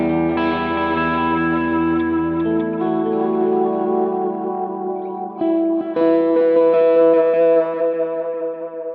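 Electric guitar played through a Helix modelled Supro 6166 amp with echo and reverb, sustained chords and notes ringing loudly with a lush, repeating wash of delay and a driven, slightly distorted tone, no voices.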